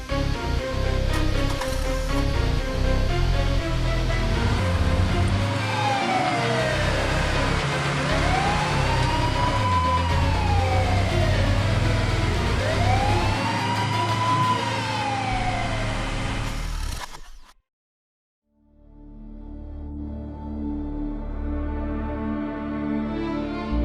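A police vehicle in a stage drama pulls away with its siren wailing in loud rising and falling sweeps over engine noise. The sound cuts off abruptly, then a low rumble returns.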